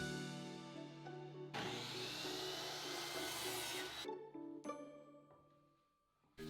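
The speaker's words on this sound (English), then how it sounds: "I need to cut this with the miter saw" A miter saw cuts scrap wood in a workshop, its motor whining up, the blade biting through the board in a single dense burst of about two and a half seconds, then spinning down with a ringing tail.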